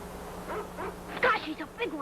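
Dog barking in a 1941 adventure drama film, a few quick barks in a short burst mixed with background film noise and some voice.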